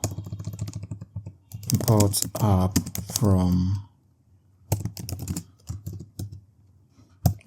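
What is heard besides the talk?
typing on a computer keyboard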